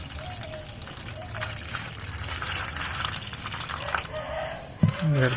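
Water pours and trickles steadily into a container for several seconds, and a voice briefly speaks near the end.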